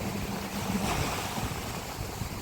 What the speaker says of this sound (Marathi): आणि आपलं अरबी समुद्र.